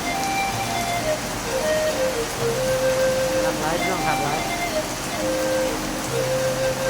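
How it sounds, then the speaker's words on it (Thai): Heavy rain pours steadily as a dense broadband hiss, with someone talking over it throughout. "เห็นแต่ฝนตกเป็นหมอกเป็นควันเลย"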